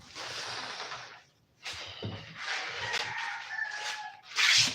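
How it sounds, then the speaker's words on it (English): Roosters crowing on a farm, with a few separate crows at moderate distance amid outdoor rustling and handling noise, one louder burst at the end. "I can hear them crowing."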